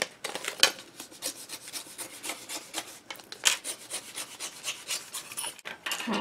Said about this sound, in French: Et là, pareil, vous découpez les bandes.